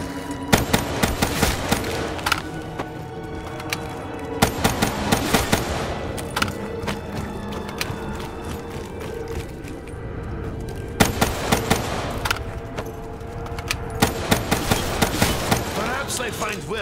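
Sustained machine-gun fire in Call of Duty Zombies on the Revelations map, loud and close, coming in dense rapid volleys with brief lulls and a steady thrum of game sound underneath; a voice talks over it at times.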